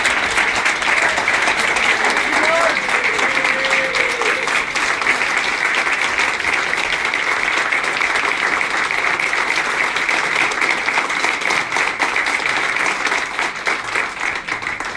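Sustained applause from an audience at a bill signing for the New York Child Victims Act, a dense, steady wash of many hands clapping that stays loud for the whole span, with a voice briefly heard under it.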